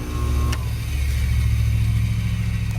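A homemade flat lap lapidary grinder built from a tile saw runs with a steady, loud motor hum and a constant low drone, with a brief higher scrape near the start as it spins and grinds.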